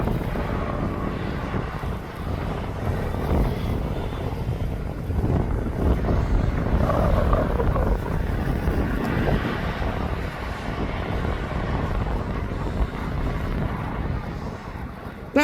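DHL cargo aircraft at East Midlands Airport, a loud, steady low roar of jet engines that rises slightly mid-way, mixed with gusty wind buffeting the microphone throughout.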